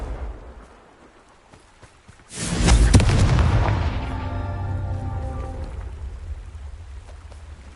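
A Confringo fire spell in Hogwarts Legacy strikes rocks with a sudden booming blast, then a long crackling, rumbling decay of falling debris over a low background.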